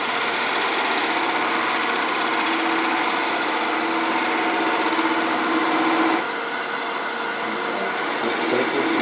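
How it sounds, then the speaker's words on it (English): Wood lathe spinning a workpiece while a detail gouge comes in for a light cut, a loud, steady, close whine and rumble that drops slightly in level near the end. "I'm going to come in here with this detail gouge"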